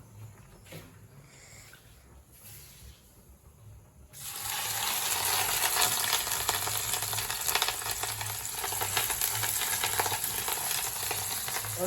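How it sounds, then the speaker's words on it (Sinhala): Mushrooms frying in a pan: after a few seconds of quiet kitchen clatter, a loud, dense sizzle suddenly bursts in and crackles steadily to the end. "හතු බදිනවා."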